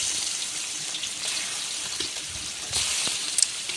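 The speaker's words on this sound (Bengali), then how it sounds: "এক এক করে সব কটা মাছ আমি ভেজে নেব।" Rohu fish pieces fry in hot oil in a wok, giving a steady, close, bright sizzling hiss that runs continuously with a few small crackles and pops near the end.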